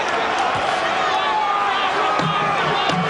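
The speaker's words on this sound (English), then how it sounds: "The crowd is on their feet here at the convention hall." A packed convention hall crowd at the George Foreman versus Evander Holyfield boxing match roars steadily and loudly throughout, a dense, unbroken wall of cheering with voices mixed in.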